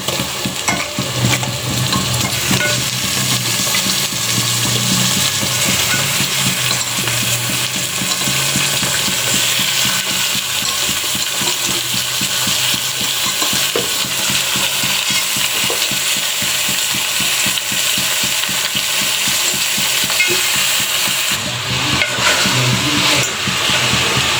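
Raw washed chicken sizzles in a curry pan with constant rapid stirring and scraping, a dense close frying hiss that continues evenly for a long stretch without talk.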